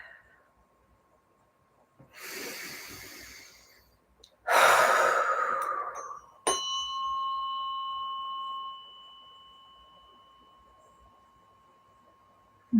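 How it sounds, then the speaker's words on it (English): A deep breath taken in a calm vagus nerve healing session: a slow airy inhale, then a louder rushing exhale, followed by a soft bell-like chime that rings out and fades. "And we take a deep breath."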